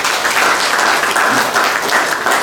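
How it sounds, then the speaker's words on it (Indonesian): Audience applause during a governor's working visit in Rote Ndao regency, East Nusa Tenggara: dense, steady clapping from a crowd, loud and continuous throughout with no pauses. "tepuk tangan buat kita semua dulu."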